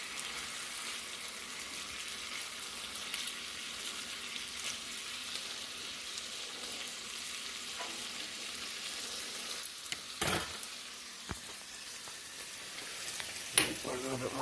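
Bacon fries in a pan with a steady, close crackling sizzle that runs throughout, broken by a few sharp clatters as the strips are flipped, with brief faint voices in the background.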